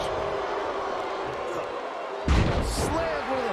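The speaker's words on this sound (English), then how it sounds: "Slammed with authority." A heavy body slam in WWE 2K19 (Jake Roberts vs Dan Severn, TNA Genesis) lands as one sudden loud thud partway through, over steady crowd noise and a commentator's voice.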